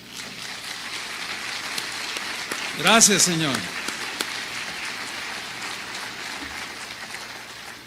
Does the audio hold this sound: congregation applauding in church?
yes